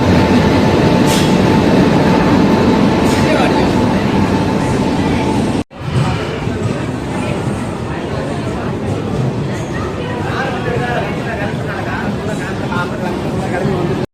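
Loud rumbling of an intercity express train rolling into Royapuram station in Chennai, steady rail noise and rattling with a brief dropout, people talking over it.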